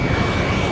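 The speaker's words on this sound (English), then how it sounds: "All those planes." Jet aircraft engines roaring as planes fly past in the combat flight video game Ace Combat 7, a loud, dense, continuous rush of engine noise filling the short moment without speech.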